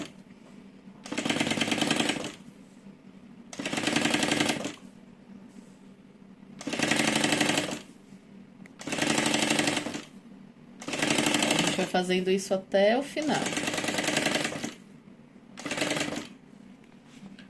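Household sewing machine stitching a zipper onto a fabric organizer, running in seven steady bursts of about a second each separated by pauses, with someone speaking Portuguese in between.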